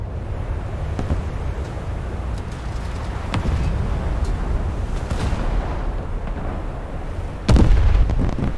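Naval guns firing in a warship video game, heard as deep rumbling booms spaced irregularly over a constant low background roar, with one louder, sharper blast near the end.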